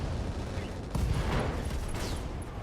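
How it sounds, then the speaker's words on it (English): Ammo explosion and weapons fire in the mech combat game RogueTech, a dense burst of blasts and crackling fire with a louder swell midway and ringing high tones, loud and continuous without talk. "nice ammo explosion."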